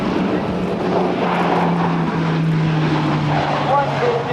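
Grumman E-2C Hawkeye turboprop carrier aircraft flying a demonstration at the 2008 NAS Oceana airshow; a loud, continuous propeller and engine drone, with a public-address voice talking over it.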